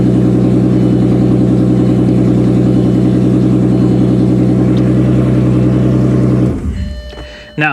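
A 1998 Audi A6 Avant Quattro with the 2.8 engine runs loud and close with a steady, rough throbbing drone, then cuts off abruptly near the end, leaving faint clicks and a short thump.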